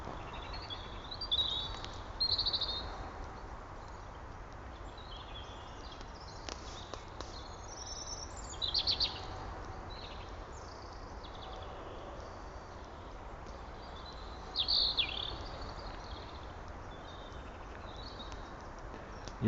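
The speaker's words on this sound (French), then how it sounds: "Attention d'un rouge-gorge." A European robin gives alarm calls from a tree outdoors at dusk. The calls come as short, high chattering bursts at three separate moments, faint and somewhat distant over a quiet, low background hiss.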